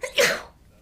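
A single sharp sneeze, close by and moderately loud, fading quickly into quiet.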